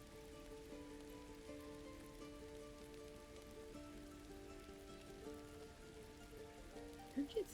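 Steady rain patters on a surface in a constant soft hiss beneath low sustained musical tones, with a couple of brief louder knocks at the very end.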